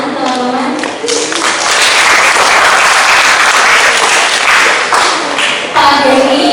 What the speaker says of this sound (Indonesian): Kita beri tepuk tangan, teman-teman.